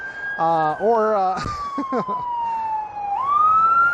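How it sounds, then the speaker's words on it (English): A police siren wails steadily through the whole stretch, sliding slowly down in pitch and then rising again, with bursts of talk over it early on. "Sorry about the sirens"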